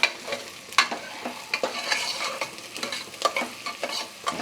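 Onions sizzling in hot oil tempering for a Mysore-style drumstick-leaf huli, with quick scraping stirs and a few clinks of the ladle over a constant close fry.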